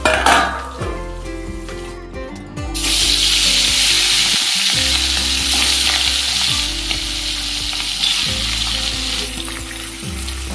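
Green banana and potato pieces fry with turmeric and salt in a pan, giving a loud steady sizzle broken by repeated scraping stirs and occasional clinks of a utensil against the pan.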